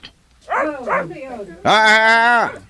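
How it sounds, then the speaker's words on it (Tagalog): Close, tonal dog vocalizations: a couple of short yelps followed by a longer, drawn-out howling bark, loud and alone. "Sinong may-ari sa mga aso na yan?"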